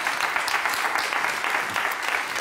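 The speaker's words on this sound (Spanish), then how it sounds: "¡Un aplauso muy grande!" Warm studio audience applause on a Spanish regional TV talk show, greeting guest Esther Cobo; dense, continuous clapping from many hands, loud and even throughout, with no voices over it.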